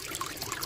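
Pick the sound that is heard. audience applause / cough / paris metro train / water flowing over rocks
water flowing over rocks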